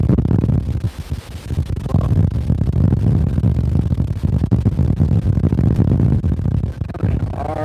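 Strong wind buffets a microphone outdoors beside a wall, a loud continuous low roar with gusty surges and brief dips, no talking.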